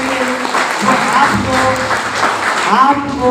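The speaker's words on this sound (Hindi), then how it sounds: "तो एक जबरदस्त तालियां होनी चाहिए हमारे रॉयल्टी प्रोग्राम के लिए" An audience at a business plan meeting in Kondagaon breaks into loud applause, steady clapping that lasts a few seconds with an amplified voice speaking over it.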